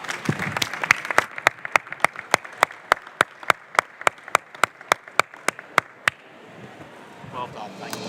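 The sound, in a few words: audience applause at end of conference panel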